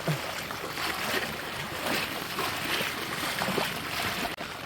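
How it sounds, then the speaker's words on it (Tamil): Water sloshes and splashes continuously as people wade on foot through village floodwater after heavy rain, a close, rhythmic churning with no voices. "இப்போ அது தண்ணிக்குள்ளே இறங்கி நடந்து போகிறோம்"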